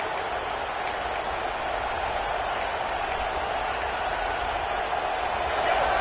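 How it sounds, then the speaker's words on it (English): A football stadium crowd cheers in a dense, steady roar that fills the space from start to finish and swells slightly near the end. "this crowd is turning it up a notch"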